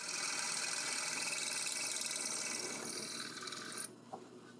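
A drill bores out a slightly undersized hole in a tube bass preamp chassis, giving a steady whirring grind for nearly four seconds before abruptly stopping, followed by a faint clatter.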